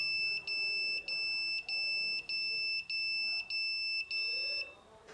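A vibration-triggered security alarm built around an ATtiny85 microcontroller sounds a loud, shrill electronic beep, repeating in eight regular pulses before cutting off, with no speech over it.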